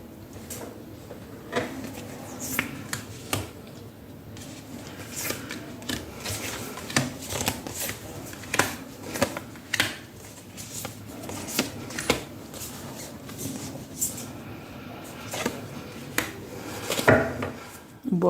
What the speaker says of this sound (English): I'll first lay down the cards before explaining to you